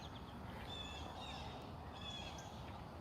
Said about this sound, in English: You guys hear the birds?